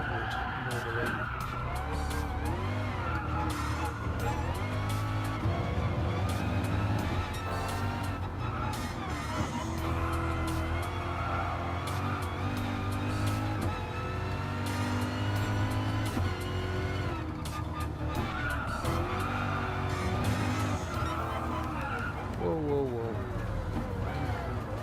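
A race car lapping in Gran Turismo Sport on PSVR, its engine revving steadily up and down through gear changes with occasional tire squeal, loud and continuous throughout.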